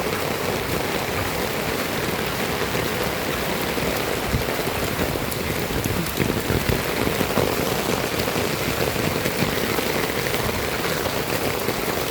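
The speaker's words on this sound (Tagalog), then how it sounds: "Ang lakas ng ulan." Heavy rain pours down steadily, a dense, constant hiss of drops hitting surfaces, with no voices, loud and unbroken throughout.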